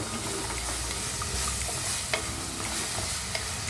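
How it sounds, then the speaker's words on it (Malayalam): Turmeric and salt are stirred into a prawn and mango curry in a pan over low flame, with a close steady sizzle and a few light scraping knocks of the spoon. "കുറച്ച് മഞ്ഞൾപ്പൊടിയും ഉപ്പും കൂടി ചേർത്ത് നന്നായിട്ടൊന്ന് ഇളക്കി കൊടുക്കാം"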